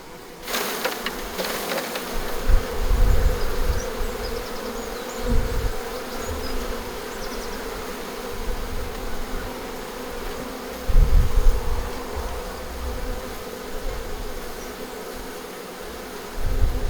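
Honey bees buzz around a comb frame in a hive, a dense, steady droning swarm close by, swelling in loudness at times, with occasional handling knocks and no talking.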